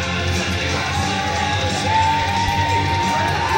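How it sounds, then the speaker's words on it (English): A crowd at an indoor wrestling event cheers, yells and whoops for the champion in a steady, loud, dense roar that does not let up. "Crowd supporting Big Dirty as our BBW champ"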